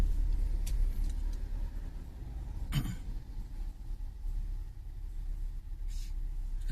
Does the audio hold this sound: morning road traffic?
yes